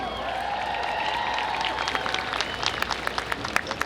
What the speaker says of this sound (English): How about another cheer for our vocalist and our signers?